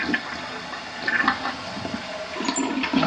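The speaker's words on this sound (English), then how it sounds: "You got to hold the handle for it to flush." A toilet in a 1990s North Dallas home flushes while its handle is held down, giving a steady rushing gurgle of water that swells and churns close by for the whole stretch, with no talking.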